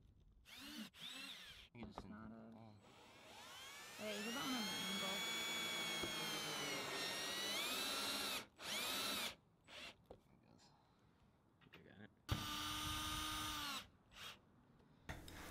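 A power drill drives screws into the flange of a Maxxair Fan 4000 roof vent on a Ford Econoline, with bursts of whirring and pauses between screws.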